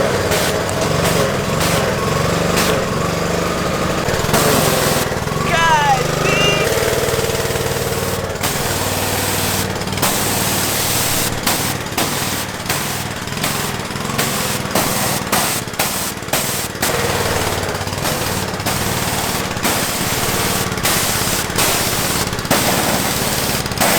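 A 1997 Yamaha Banshee's two-stroke engine with Lectron carbs running loud and close, a harsh crackling buzz with rapid popping and revving throughout.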